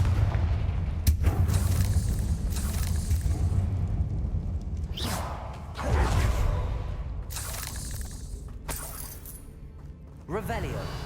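Blasting-spell explosions go off in Hogwarts Legacy, several sharp booms and crackling bursts spread across a steady low rumble of game ambience.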